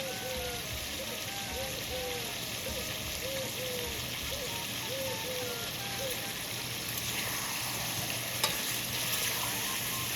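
Capsicum going into kadai chicken frying in a pan with tomatoes and no added water: a dense, even sizzle and crackle that runs the whole time, with someone talking over it.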